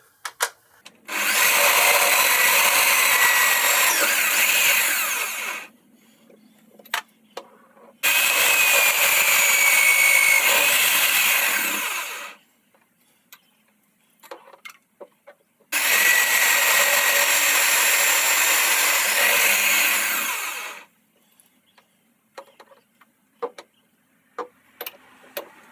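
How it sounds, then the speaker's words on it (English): A 1/4 inch drill bores holes into a steel lathe headstock spanner in a workshop, three long, loud, steady whirring runs of about five seconds each, separated by quiet gaps with small clicks and knocks. "Now I need a 1/4 inch drill."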